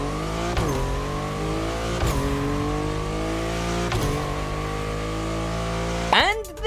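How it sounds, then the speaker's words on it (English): Lykan Hypersport supercar engine in The Crew racing game, a loud sustained roar climbing in pitch through repeated upshifts with sharp gear-change dips, ending in a final quick rev burst; a voice speaks over it. "This is the sound of the Lykan Hypersport."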